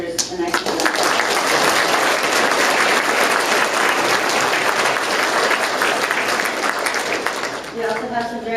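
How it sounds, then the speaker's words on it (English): A full room at a county judicial officer awards ceremony breaks into sustained, loud applause for the judges and commissioners, a dense steady wash of clapping that holds for several seconds before easing off, with a voice returning at the end. "Please give our judicial officers a nice applause."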